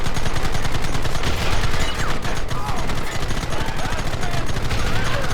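Rapid, sustained gunfire in the Red Dead Redemption video game, dense overlapping shots rattling without pause throughout, with faint voices mixed in behind.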